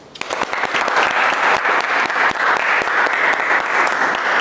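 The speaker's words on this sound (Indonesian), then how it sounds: "Tepuk tangan dulu buat Rivaldi." Lively applause from a class audience at an Indonesian polytechnic lecture, rising quickly into dense, loud clapping that holds steady to the end.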